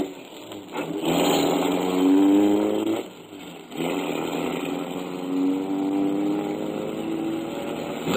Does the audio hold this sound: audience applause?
no